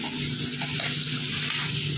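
Pointed gourd fries in a pan with a constant, close sizzling hiss and faint bubbling crackle, no voices.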